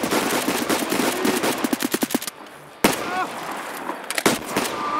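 Rapid automatic gunfire rattles in a close, loud burst during an Escape from Tarkov firefight, followed by a short pause, then a single heavy shot and a few more scattered shots.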